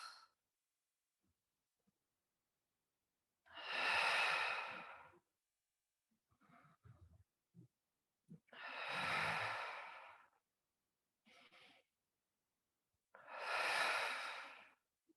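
Slow, deliberate breaths during a heel-lift exercise on a foam roller, three long audible exhales spaced by quieter inhales and pauses, close and isolated with no talking.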